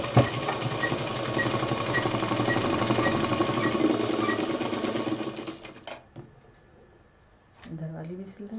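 A sewing machine runs steadily, stitching lace onto a fabric cover, its dense mechanical whirr filling about six seconds before stopping; a voice speaks briefly afterward.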